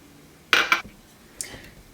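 A metal pot set down on a kitchen stove, two quick sharp clanks in succession followed by a lighter clink, close and loud with no voices.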